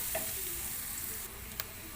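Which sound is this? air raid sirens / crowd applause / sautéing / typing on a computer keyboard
sautéing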